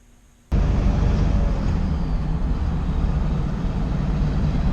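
A single-turbo diesel engine runs with a sudden loud onset, then a steady, dense roar fills the clip, with a faint high turbocharger whistle threaded through the rumble.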